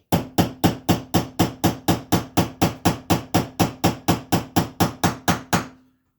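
A hammer taps a trigger guard pin into place in a steady run of about twenty sharp, evenly spaced metallic strikes, loud and close, with no talking.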